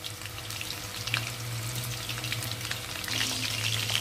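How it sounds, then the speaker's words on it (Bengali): Steady sizzling of chicken pakoras frying in hot oil, a continuous crackling hiss with a low hum underneath, fairly close. "আমি লাল লাল করে ভেজে নেব পকোড়াগুলো উল্টে পাল্টে"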